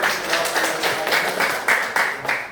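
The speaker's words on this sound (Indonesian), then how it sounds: "kita berikan tepuk tangan" A class applauds a student, quick overlapping claps in loose, pulsing bursts at moderate loudness, with some voices underneath.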